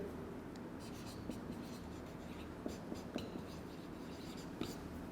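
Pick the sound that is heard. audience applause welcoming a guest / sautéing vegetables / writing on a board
writing on a board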